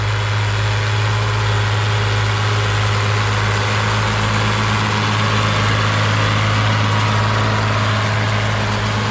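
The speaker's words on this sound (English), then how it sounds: "he gives me some throttle, putting on a show." A John Deere tractor engine on a farm running steadily and loudly close by, a constant low drone throughout with no talking.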